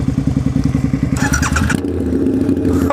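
Loud, close motorcycle engine with its exhaust baffle removed, idling in a fast, even, raspy thump before a sharp clattering blip of throttle.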